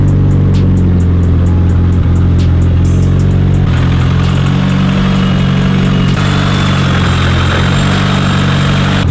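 A Mitsubishi Lancer Evolution VIII engine idles and revs up loudly and close, a steady low rumble that rises in intensity partway through, with no voices.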